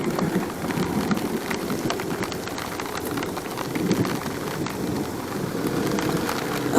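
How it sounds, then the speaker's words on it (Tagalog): Heavy rain pours steadily at the onset of the rainy season, a dense continuous hiss of drops on surfaces, loud and unbroken throughout. "Lakas ng ulan."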